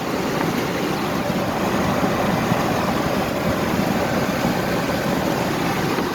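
An electric Ford F-350 one-ton pickup cruises down a highway without a trailer, giving a steady, loud broadband rush of road and wind noise with no engine note and no pauses.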